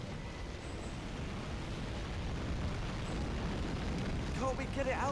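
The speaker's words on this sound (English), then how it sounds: "there's fire down here" Fire in the Harry Potter and the Goblet of Fire video game: a steady, loud roaring rumble that fills the whole stretch, with faint crackling and a few higher whistling tones near the end.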